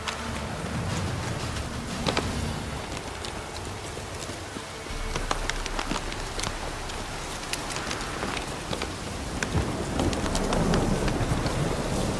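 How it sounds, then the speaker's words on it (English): Steady heavy rain in the video game The Witcher 3: Wild Hunt pours down in a constant hiss, with scattered drips and patters landing on nearby surfaces. "This downpour's a bastard, it is."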